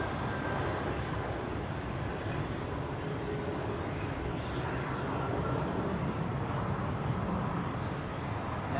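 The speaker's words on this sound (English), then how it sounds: "So, Edelweiss A320 landing on runway 28." An Edelweiss Airbus A320 lands on runway 28 at Zurich Airport, heard as a faint, distant, steady broadband rumble of engine and airflow noise that holds for several seconds without any talking.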